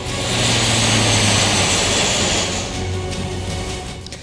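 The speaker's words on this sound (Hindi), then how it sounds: "ये गनशिप यानी कि एक ऐसा हवाई जहाज जो कि इस वक्त हम आपको दिखाने की कोशिश करें, जिसमें तोप लगी है" A military gunship aircraft fitted with a cannon passes overhead, its loud engine roar and propeller drone filling the air, then gradually fading as it moves away.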